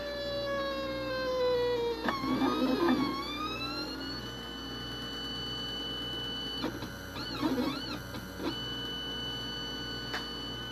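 A simple 3D printer running its first print, with no bed, heat bed or cooling fans, giving continuous stepper-motor whines that rise and fall in pitch, with a few busier mechanical bursts over a low hum.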